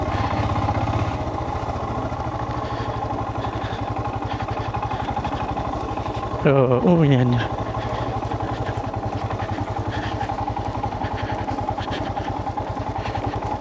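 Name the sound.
motorcycle engine idling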